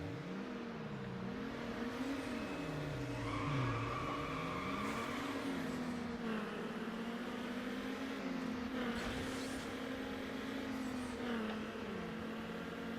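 Car engine from the Need For Speed Underground racing game, a steady droning hum with rising and falling revs as gears shift, continuous and fairly loud for the whole stretch with no talking.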